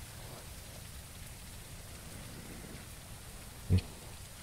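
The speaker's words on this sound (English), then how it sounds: "We're getting wet from the rain." Rain pours steadily in the survival game Mist Survival, a soft, even hiss that stays low and constant throughout. A single short thump stands out near the end, and no one talks.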